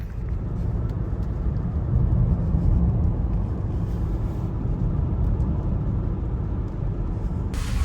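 A vehicle drives along a road toward an airfield, its broad engine and road rumble holding steady and close throughout, swelling slightly partway before settling, with no talk.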